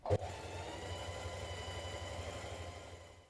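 A sewing machine runs a zigzag stitch on a hoodie seam, starting with a sharp click and then holding a steady, even mechanical whir at low volume for a few seconds.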